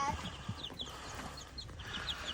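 Backyard chickens clucking around an automatic feeder and waterer, soft scattered clucks and chirps close by over a steady outdoor background.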